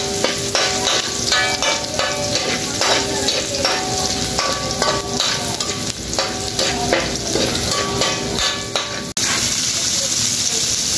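Garlic sautéing in a pan for a reef octopus dish, with a loud, steady sizzle and crackle and intermittent scraping stirs throughout before a brief cut to a softer, even hiss.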